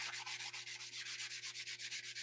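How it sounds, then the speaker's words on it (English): Quick rhythmic rasping strokes of sandpaper on light model aircraft elevons, close up and evenly paced, with a faint steady hum underneath. "Just sanding some elevons."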